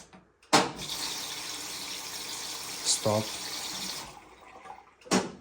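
A Bosch washing machine fills with water in a steady rushing flow that stops abruptly. It starts again with a fresh gush at the end, and a voice speaks briefly in between.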